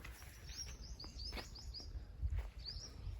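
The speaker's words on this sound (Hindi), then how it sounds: "देखिए कितनी पक्षियों की यहाँ पे आवाज़ें आ रही है" Birds chirp and call in a temple garden, quick repeated high tweets scattered across a quiet, faint outdoor scene.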